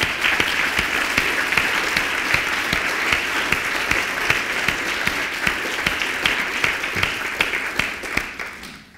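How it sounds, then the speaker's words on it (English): Sustained audience applause fills a hall after a speech at a criminology reception, dense steady clapping that carries on for several seconds before tapering off at the end. "I want you to give him a round of applause,"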